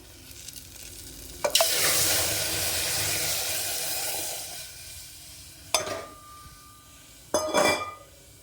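Okra sizzles loudly in a hot pan after a clatter, then fades before two sharp metallic scrapes of stirring near the end.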